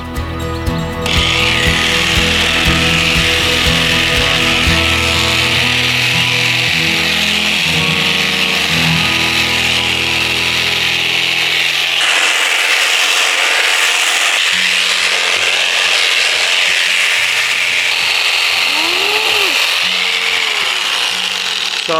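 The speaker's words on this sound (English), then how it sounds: "These clippers are super sharp, so always make sure you know where that is" Electric shearing clippers buzz steadily through alpaca wool, a loud continuous whirring drone close by with tonal hum that shifts as the blades bite, no talking.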